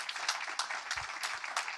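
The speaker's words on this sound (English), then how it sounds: "Give her a round of applause." Audience applause welcoming a speaker to the stage at a talk event, a short continuous wash of clapping at moderate distance with no voices over it.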